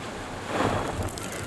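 Gusty outdoor wind on a very windy day buffets the microphone as a steady broadband rush, swelling slightly in the middle, with no talking.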